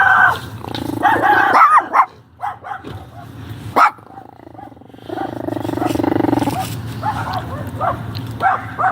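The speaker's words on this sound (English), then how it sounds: "Shut that door so those dogs don't get out." Dogs bark and growl loudly and close by in a series of sharp, irregular bursts, with people talking around them at a police scene.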